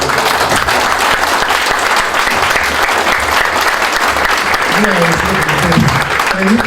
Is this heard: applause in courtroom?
yes